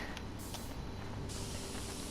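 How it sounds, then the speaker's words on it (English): A spray can hissing steadily as it coats a wooden plank in the adventure game Back to the Future: The Game, a continuous close, loud spray lasting the whole stretch with no talk. "We're gonna spray the plank so that when Einstein runs up the thing, it leaves footprints."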